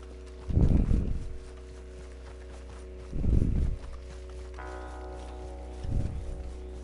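Three separate bursts of clattering horse hooves in Red Dead Redemption 2, spaced a few seconds apart, each brief and fairly close over a steady low hum.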